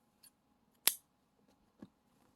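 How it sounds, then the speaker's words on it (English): Scissors snip through crochet yarn at a bobbin on a Christmas advent calendar blanket square: one crisp, close snip, with a couple of faint small clicks around it in otherwise quiet surroundings. "You can cut off this bobbin here."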